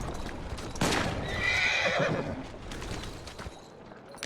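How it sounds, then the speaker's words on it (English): A horse in the Assassin's Creed Syndicate video game gives a loud close whinny, with clip-clopping hooves and street bustle around it before the noise fades down. "Who's a good horse?"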